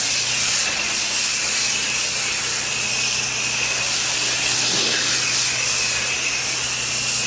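A pressure washer sprays soap across a dirty pool deck, producing a loud, steady hiss of spray that runs unbroken at close range.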